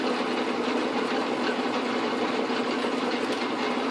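An Atlas QC42 metal lathe cuts a special washer and parts the scrap off cleanly, giving a steady, fairly loud whirring grind that holds even throughout with no talking.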